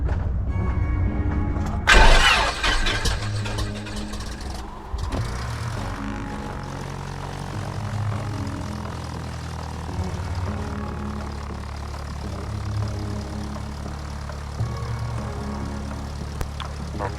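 Light propeller aircraft engine starting for an IFR training flight at Skagit Regional Airport: the engine catches with a loud burst, then settles into a steady, close idle drone with no talk over it.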